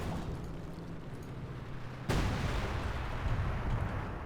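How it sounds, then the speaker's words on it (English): Artillery shelling in Company of Heroes 2, a low steady rumble broken by one sudden heavy impact that leaves a louder roaring wash of blast noise behind it, with no voices. "Artillery seems to be coming down at this location."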